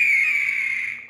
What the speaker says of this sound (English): I think that's an eagle.